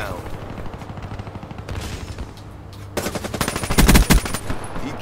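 Rapid automatic gunfire from a video game gun, bursts of rattling shots that grow louder and denser toward the end, close and loud.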